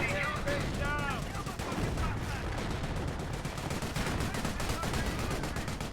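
Commandos fire their guns in Company of Heroes 1, Panzer Elite versus British, with dense overlapping bursts of gunfire and rattling machine-gun fire that stay loud and continuous throughout.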